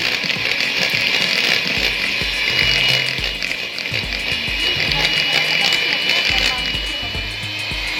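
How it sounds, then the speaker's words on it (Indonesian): An electric mixer whips nastar cookie batter at high speed, a steady bright whirring drone with a faint rattling buzz that holds throughout, close and fairly loud. "ini dikocok dengan kecepatan tinggi"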